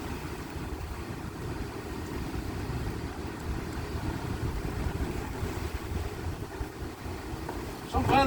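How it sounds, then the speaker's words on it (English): A strong gale blowing outdoors on a wet, rainy day, a loud steady roar buffeting the microphone for the whole stretch, with gusts rising and falling and no talking. "Blowing a bloody gale here."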